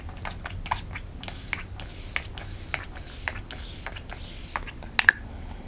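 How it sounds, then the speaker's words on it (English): A makeup setting spray bottle is shaken with a series of short rattling clicks, followed by brief spritzes of spray onto a face, fairly close. "So I'm just gonna shake this up and I'm going to spray my face."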